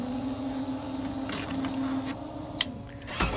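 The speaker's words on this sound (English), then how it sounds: "That's noise of the vacuum platform turned on." Epson L1800 DTF printer with its vacuum platform switched on: a steady mechanical hum and drone runs throughout, with a few faint clicks and a sharper broadband burst near the end, no talking.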